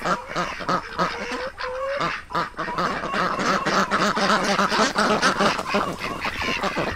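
Laying hens in a henhouse at a rooftop garden keep up a steady chorus of overlapping clucks and squawks, dense and close throughout, with occasional louder calls rising above the flock.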